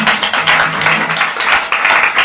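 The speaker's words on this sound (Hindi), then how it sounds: "तालियां बजाकर स्वागत कीजिए" Audience clapping to welcome a contestant at an inter-college quiz show, a dense, steady round of handclaps close by with no voices, lasting a couple of seconds.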